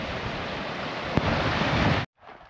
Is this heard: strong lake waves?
yes